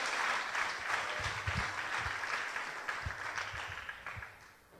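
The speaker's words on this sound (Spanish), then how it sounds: "Denle un aplauso, amigo, que me ayudó con la prédica." Audience applause at a church sermon, a steady wash of clapping that tapers off toward the end, heard alone without voices.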